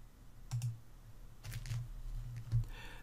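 Mouse and keyboard clicks at a computer while working in an Excel spreadsheet, a few light, close taps spaced out over quiet room tone, with no voice.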